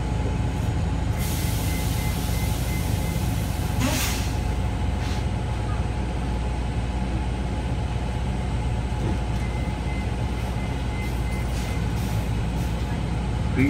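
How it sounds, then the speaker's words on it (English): A 2016 Gillig Low Floor 40-foot hybrid electric city bus pulls away with a steady low drive hum and interior rumble, a brief hiss near the start, heard from inside the cabin. "Please hold on. The bus is departing."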